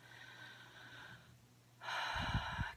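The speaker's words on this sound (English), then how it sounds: "just sit and take a deep breath" A slow deep breath is drawn in and let out, soft airy rushes of inhaling and exhaling close to the mic in a quiet room, with no talking.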